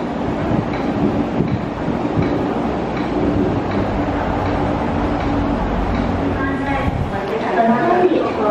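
An MTR Tuen Ma Line Phase 1 non-passenger train passes Tai Shui Hang station with a loud, continuous rumble and wheel clatter, while voices are heard over the passing train.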